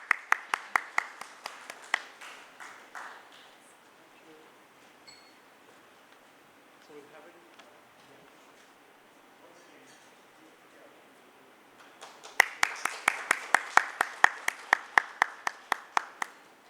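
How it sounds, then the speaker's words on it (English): Scattered applause from a conclave audience after a memento presentation: sharp separate claps at the start, a quiet stretch, then a second burst of clapping near the end, fairly faint and thin. "Please round of applause for Shri Pramod Rao."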